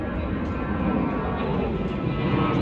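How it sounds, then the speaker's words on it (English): A steady, broad low rumble of an airplane passing overhead, continuous and fairly loud throughout with no talking. "Airplanes."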